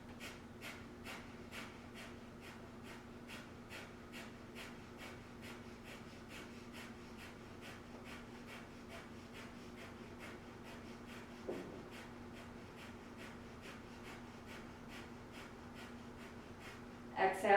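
Steady rhythmic breathing during a power yoga breathing exercise, evenly repeated breaths roughly every half second throughout, fairly quiet and close, with a faint low hum underneath and no talking.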